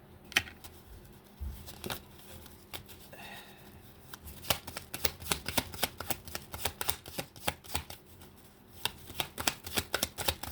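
Tarot cards are handled quietly at first, then shuffled in quick riffling bursts that grow louder and denser toward the end, close by with no talking.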